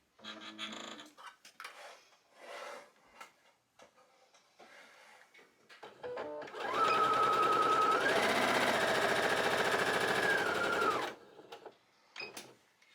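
A sewing machine stitches the edges of fabric for a bow garland. Soft handling sounds come first, then a steady, close mechanical whirr runs for about four seconds before stopping.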